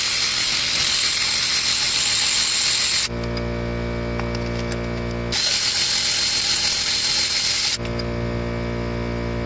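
Ratchet with a 5/8 socket loosening spark plugs on a 2015 Chrysler 200 with the 2.4 engine, sped-up sections of busy mechanical clicking and scraping alternating with steadier humming passages, close and fairly loud, with no talking.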